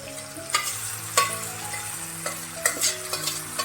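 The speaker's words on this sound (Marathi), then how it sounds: "2 मिनटं हे अशा फोडी परतून घ्यायच्या तेलामध्ये." Stuffed ridge gourd pieces sauté in oil with masala, a close, lively sizzle punctuated by several sharp spatula stirs and scrapes at irregular intervals, with no voices.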